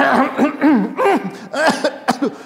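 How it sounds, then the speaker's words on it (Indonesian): A short burst of coughing mixed with voiced chuckling sounds, several quick rough hacks in a row, close and fairly loud. "Aduh, batuk ini saya."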